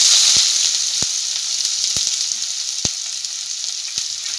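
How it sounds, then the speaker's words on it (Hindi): Onions sizzling steadily in hot oil in a pan, a loud continuous crackle with a few sharp pops scattered through it, no voices. "तेल हमारा अच्छे से गर्म हो गया है और अब मैं इसमें डालूंगी प्याज"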